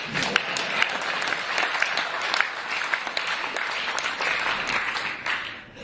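An audience breaks into steady, moderately distant applause during a political interview event, a dense patter of many hands that holds for several seconds and then fades out.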